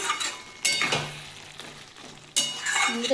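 Raw poppy seed paste thinned with water and stirred in a pan with cauliflower and potato: soft sizzling, with a couple of sharp utensil knocks and scrapes against the pan.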